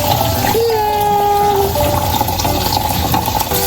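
Water splashes and runs steadily as a child is bathed in a sink, a continuous close wash of sound with a faint voice in the background.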